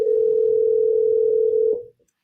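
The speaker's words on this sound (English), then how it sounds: "It's ringing." A telephone ringback tone plays while a number is being dialed, one steady, clear pitched tone lasting just under two seconds before it cuts to silence.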